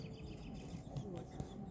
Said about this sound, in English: Actually, that sounds more like sparrow.